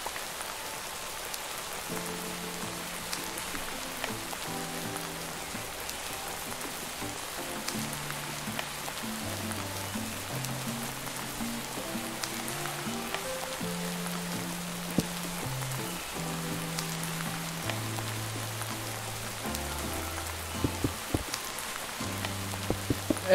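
Steady rain falling in Minecraft, a constant soft hiss of drops on surfaces running throughout, with low game music notes playing underneath and no talking.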